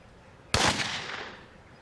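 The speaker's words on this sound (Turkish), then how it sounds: "Silah patladığında sporcularımızın hepsi yerlerinden fırlayacaklar." A single sharp, loud starting-gun shot cracks out at an athletics start, followed by a quick echoing decay.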